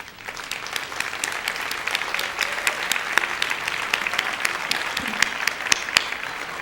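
Applause at a Teacher of the Year gala honoring committee leaders, a steady crowd clapping with crisp distinct claps scattered through, moderately loud and continuous, with faint murmur underneath.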